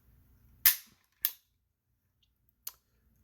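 An HK45 Tactical V7 LEM pistol has its trigger dry-fired for a pull weight test: three sharp, crisp snaps, the first two close together and the third after a pause, with near silence between them.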